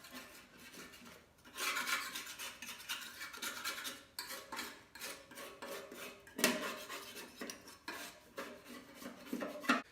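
A putty knife scrapes the seat where a bracket mounts on the drum of an LG front-loading washing machine, giving repeated gritty scraping strokes in uneven bursts at close range, with no talking.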